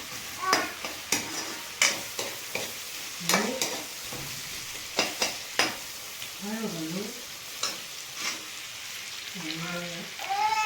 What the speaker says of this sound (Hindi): अनियन रख देंगे हम पकने के लिए